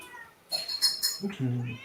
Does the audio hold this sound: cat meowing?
yes